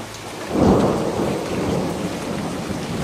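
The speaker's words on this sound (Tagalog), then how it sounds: "unti-unti nang bumabagsak ang ulan" Steady rain falls with a low roll of thunder rumbling in close and then fading under the continuous patter of the downpour.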